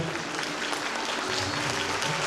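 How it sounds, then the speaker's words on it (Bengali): Steady applause from an audience at an awards ceremony as nursery-section children are honoured on stage, a continuous even wash of clapping with no break. "একবার সকলে মিলে জোরে হাততালি আমাদের"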